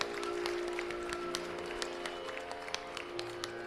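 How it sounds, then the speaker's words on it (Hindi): A crowd at a school block inauguration in Delhi applauds after a ceremonial lamp lighting, producing a steady wash of clapping over a faint sustained tone throughout. "जोरदार तालियों से आइए सहभागी बने"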